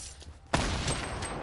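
Gunfire in a Fortnite match, a sudden loud burst of shots that breaks a near-quiet moment and then rolls on as dense, continuous rattling fire.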